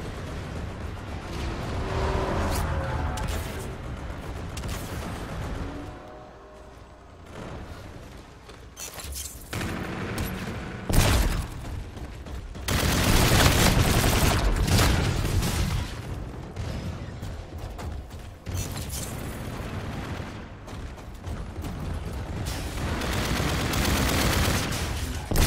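Sustained gunfire from the video game Call of Duty Infinite Warfare in multiplayer: dense bursts of automatic fire and sharp shots run almost continuously, loud and close, with a brief lull before the firing resumes heavily.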